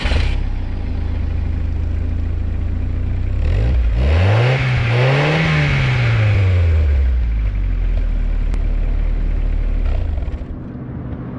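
A 1990 VW Golf CL with a 1.8-litre inline four-cylinder engine idles steadily, then revs up sharply, peaks and falls back to idle, heard close and loud with no talk.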